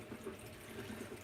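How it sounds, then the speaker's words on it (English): A tap runs steadily in the background during makeup brush cleaning, giving a faint, even rush of water with soft splashy texture and no talk. "like if you hear the water in the background, the water is actually just running"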